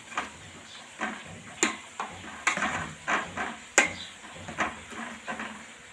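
Stirring pav bhaji after adding coriander leaves in a pan, with a spatula scraping and clanking against the metal in irregular strokes about once or twice a second over a soft sizzle.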